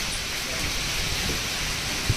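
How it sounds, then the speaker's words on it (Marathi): Heavy rain and gusting wind from a windstorm sweep over sown farmland, with trees being tossed; a steady, dense wash of noise holds throughout, close and loud, with no pause. "हे बघा कसं वारं वादळ"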